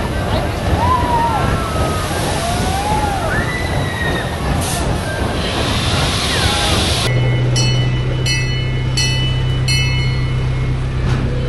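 Rumbling theme park train ride with a steady low engine hum and clatter, water sloshing nearby, chirping birds in the first half, and a sustained tone later.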